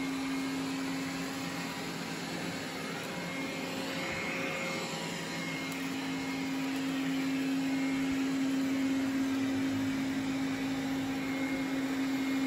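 Roborock S5 robot vacuum running over carpet, a steady whirring motor drone with a constant tonal hum and broadband fan noise, close and even throughout with no talking.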